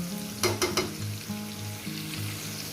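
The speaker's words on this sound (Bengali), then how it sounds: "মিনিমাম ছ সাত জনের মাংস থেকে চিকেনটাকে ভেজে নেব" Chicken pieces frying in a pan give a steady close sizzle, with a few quick stirring scrapes near the start and a low hum of the stove underneath.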